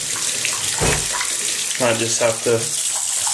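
Water runs from a tap as it warms up during a home DIY project, a steady rushing splash with a person talking briefly over it.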